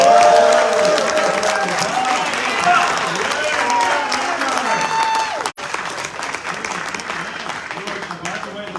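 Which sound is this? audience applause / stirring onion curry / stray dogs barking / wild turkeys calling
audience applause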